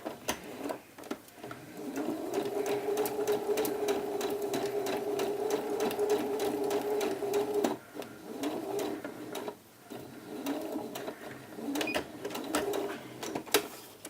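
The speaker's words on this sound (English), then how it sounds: "So do your first row of basting approximately 1/4 of an inch from the edge." A sewing machine runs a row of long basting stitches along a blouse sleeve edge, a steady whirring drone with brief pauses and restarts, close and fairly loud, with no talking.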